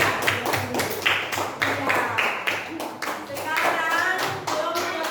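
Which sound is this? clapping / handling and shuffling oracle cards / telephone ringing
clapping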